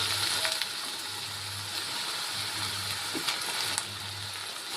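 Spices frying in oil with ginger-garlic paste, tomato and green chilli, a steady even sizzle close by with a faint low hum beneath and a couple of small clicks, no speech.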